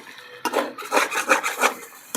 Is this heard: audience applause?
no